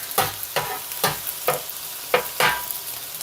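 Cubed marinated pork sizzles in butter in a pan while a utensil stirs and scrapes it in a steady rhythm of about six strokes, close and clear with no talking.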